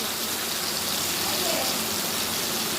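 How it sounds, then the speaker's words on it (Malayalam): Heavy rain pours down in Kerala as a steady, dense hiss, continuous and fairly close throughout, with a faint voice briefly audible beneath it. "നല്ല മഴയുണ്ട്."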